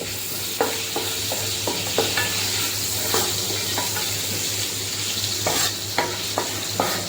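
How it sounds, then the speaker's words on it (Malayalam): Chopped green chilies and curry leaves are stirred in a hot pan for chickpea chole masala. The steady sizzle is punctuated by light, irregular clicks and taps of the spatula against the metal. "ഒരു പച്ച മണം മാറുന്ന വരെ ഒന്ന് ഇളക്കി കൊടുക്കാം"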